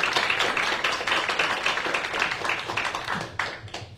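An audience at an academic lecture gives a warm round of applause for the invited speaker. The clapping is brisk and clearly separated, strong at first and gradually thinning out over four seconds, with a few scattered claps at the end.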